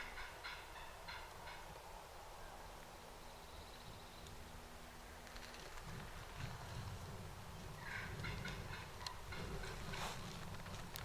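Wild turkey toms gobble in a field edge in spring, with several distant gobbles rising out of faint outdoor ambience and no talk.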